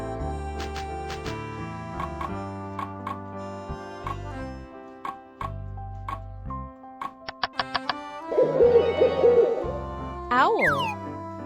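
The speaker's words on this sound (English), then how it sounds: "Owl." An owl hoots in a short series, clear and close, over a light background of soft music tones and ticking.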